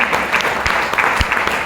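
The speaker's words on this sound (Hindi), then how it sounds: "एक बार ताली जोरदार वाली बजाइए।" A seminar audience in Mughalsarai claps for a guest, a brief burst of dense, close applause with a few sharper individual claps standing out.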